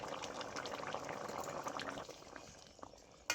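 Fish curry of bata fish with drumstick pieces and ridge gourd simmering in a pot, a steady soft bubbling and gurgle throughout, close and fairly quiet, with a brief clink near the end.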